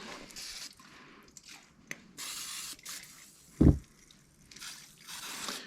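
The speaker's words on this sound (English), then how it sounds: "WD-40 is great at cleaning stuff" WD-40 is sprayed onto a motorcycle helmet in several separate short hissing bursts up close, with a brief dull thump between them.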